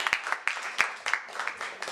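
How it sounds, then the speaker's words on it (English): A small audience at a Yoruba language talk at the Nigerian Center in Washington DC claps briefly: sparse, distinct hand claps at an uneven rhythm, fairly quiet and without talk. "Round of applause for her."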